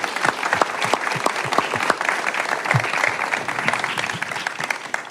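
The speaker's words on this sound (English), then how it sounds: "if we could give each of them a round of applause" Applause from the audience at a panel discussion on defending democracy, a steady patter of claps with some sharp close hand claps standing out, even throughout.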